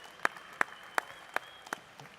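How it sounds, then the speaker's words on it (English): Audience at a Porsche auction in Costa Mesa clapping for the auctioneer, a few sparse, distinct claps about every third of a second over a faint background hum, fairly quiet. "a round of applause, please, for Mr. Thomas Forrester, our distinguished auctioneer today"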